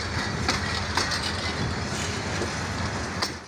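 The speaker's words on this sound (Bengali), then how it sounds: "আমার সামনে আরেকটা লোকোমোটিভ আসছে" The Dolanchapa Express, a Bangladeshi intercity train hauled by locomotive 2912, rolls past with a continuous loud rumble and rhythmic rail clatter, steady and close throughout, with no voices.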